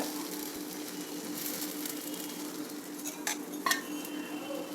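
Thick uttapam batter made from leftover rice sizzles steadily in oil on a hot pan, a close, even frying hiss with a couple of faint utensil clinks near the end and no voices.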